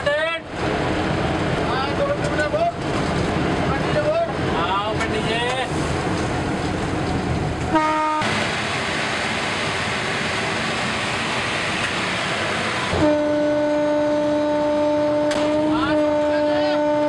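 An electric locomotive sounds its horn in intermittent bursts while passing a manned level crossing gate near Sealdah, with long steady blasts broken by short pauses over a continuous rumble of the moving train.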